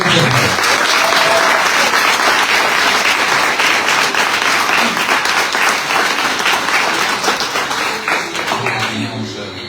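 Dense, loud applause from the audience at the 2024 Guadeloupe cycling tour presentation carries on steadily for the full length, easing slightly toward the end.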